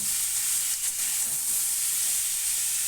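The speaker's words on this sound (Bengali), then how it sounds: "দিয়ে দিলাম কেটে রাখা কুমড়ো তিন থেকে চার মিনিট কষিয়ে নেবো" Chopped pumpkin from a rooftop garden frying in oil with spices for a curry, giving a steady, loud, close sizzle that carries on without a break.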